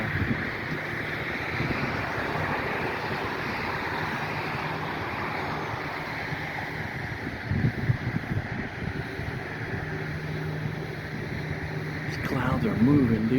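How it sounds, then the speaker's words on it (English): Strong outdoor wind roars steadily across the microphone at dawn under stormy skies, a continuous broadband rush with gusts swelling near the end. "It's super windy."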